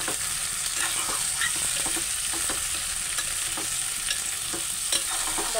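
Pieces of okra fry in hot oil with a constant, bright sizzle. Occasional clinks and scrapes of stirring sound close by, and no one speaks.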